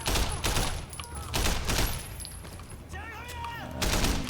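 Assault rifle fire in the Sleeping Dogs video game: several loud bursts of shots over about four seconds, separated by short gaps, with game sound effects and faint voices in the background.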